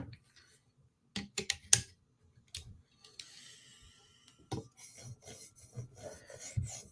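A Tanto M4 PM2 steel blade is drawn across a 2000 grit sharpening stone in short, quiet scraping strokes separated by pauses, close and fairly faint.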